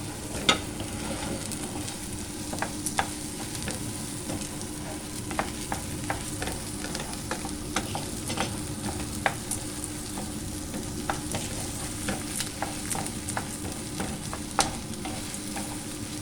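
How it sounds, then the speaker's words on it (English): Onions sautéing in a pan on the stove for a coconut mint chutney: a steady close sizzle with frequent clicks and scrapes of stirring, no talk. "I am going to add onions, just saute it for a minute."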